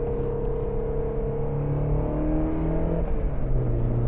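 A Mazda Miata drives a gentle first lap at Alastaro Circuit in Finland, its engine droning steadily from inside the car with a slowly rising tone and road rumble underneath, no voices.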